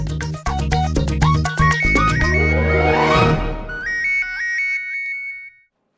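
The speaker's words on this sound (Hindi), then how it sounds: "किसका फोन है?" A mobile phone ringtone plays a bright electronic melody loudly over a steady beat in a home scene from a Hindi TV drama. It sweeps upward and then falls quiet.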